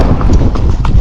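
Hooves of a trotty Rocky Mountain horse thud on the ground while it is ridden, a quick uneven run of steady clip-clop beats, close and loud over rumbling outdoor noise.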